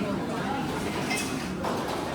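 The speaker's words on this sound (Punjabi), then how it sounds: "ਭਾਂਡੇ ਧੋਈ ਜਾਂਦੇ ਮੁੰਡੇ" Dishes and cutlery clink and rattle as boys wash them at a village gathering for an Akhand Path bhog ceremony, a steady busy clatter blended into crowd noise and nearby chatter.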